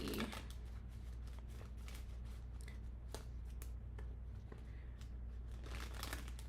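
Tarot cards shuffled by hand, a steady run of soft papery riffs and flicks with scattered crisp snaps, close and quiet over a constant low hum, no talking.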